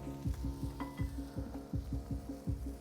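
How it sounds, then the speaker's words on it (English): Paella rice in a pan on a Kamado Joe Classic II grill is stirred with quick, rhythmic scraping strokes, several a second, over a gentle background sizzle, close and clear. "we're just going to give this a little bit of a move around, just to make sure all the rice is distributed nicely"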